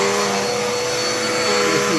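A Dirt Devil Endura Reach vacuum cleaner runs close by with a loud, steady motor whine and broadband airflow roar, continuous throughout.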